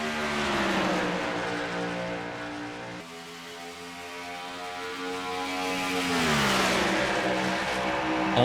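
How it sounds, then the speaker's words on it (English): A pack of race trucks roars past on the Charlotte oval at a restart toward the green flag, loud engines rising and falling in pitch as they accelerate, with a brief dip before the roar swells again. "Carson Miller, Bradley Ream, they're going to lead us down to the green flag to get race number 5 restarted from here at Charlotte."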